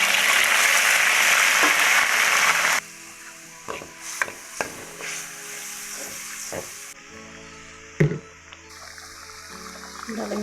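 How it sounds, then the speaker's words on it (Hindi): A paste of onion and garlic with cumin seeds hits a hot pan with a loud, bright sizzle. The hiss then drops sharply and gives way to scattered clanks and scrapes of stirring, with one sharp knock and no voices. "अब हम इसको भून लेंगे अच्छी तरीके से।"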